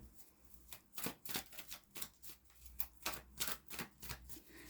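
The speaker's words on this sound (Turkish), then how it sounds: "Bir kart daha çekmek istiyorum." Tarot cards shuffled and drawn during a reading, a quiet series of crisp riffling and flicking bursts in an uneven rhythm, close and faint with a low hum underneath and no talk.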